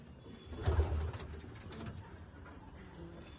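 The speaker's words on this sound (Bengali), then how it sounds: "এই একটা দারুণ পায়রা।" Tournament racing pigeons giving low throaty coos, one louder close coo near the start followed by softer repeated cooing against quiet background noise.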